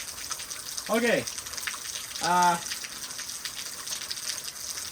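Rain falling steadily during an outdoor chest workout, a constant hiss of drops throughout, with a voice briefly over it twice.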